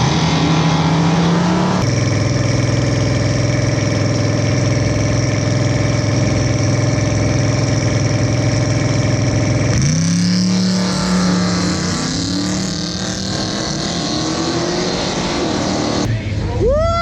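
A loud flex-fuel truck engine roars at a steady high rev for several seconds while racing, then drops and revs again in bursts, with faint talk in the background.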